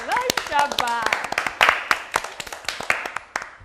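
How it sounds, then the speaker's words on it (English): Children clap together during a classroom storytelling lesson, a burst of close, uneven hand claps that starts amid a child's sung or excited voice and keeps pattering irregularly for a few seconds. "Let's clap for ourselves."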